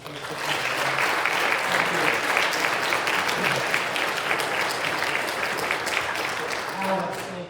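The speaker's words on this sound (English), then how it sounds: "Join me in a round of applause." A large audience gives a sustained round of applause at a formal presentation, dense and steady throughout with a few voices mixed in near the end.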